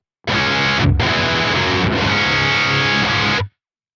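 Distorted electric guitar through an Archetype: Nolly X amp simulator, pitched down three semitones, plays chords alone for about three seconds, thick and saturated with a slightly lowered, darker tone and brief gaps between strums.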